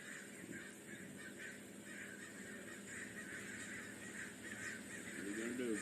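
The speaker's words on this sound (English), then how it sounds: "It's a murder of crows." Crows caw outdoors near a riverside spot where a van is parked, harsh calls repeating at a moderate distance under steady background noise, with people talking throughout.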